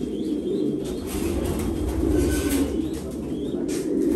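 Racing pigeons kept in cages coo in a steady low murmur, several birds overlapping continuously under a constant background hum.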